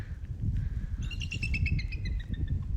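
A bald eagle gives a rapid series of high, thin, chattering screech notes at moderate distance over low rumbling background noise.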